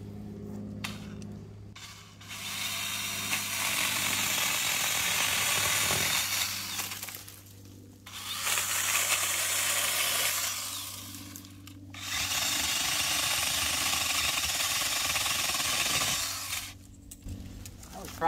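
A battery-operated Dewalt pole saw cuts through a thicker tree outdoors in three long bursts of rough, rasping chain sawing, separated by brief pauses with the motor's lower hum.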